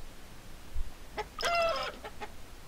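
A chicken in the Mogeko Castle video game lets out a short burst of clucks, a few quick squawks in the middle, heard alone over a quiet noisy background.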